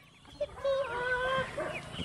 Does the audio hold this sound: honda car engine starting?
no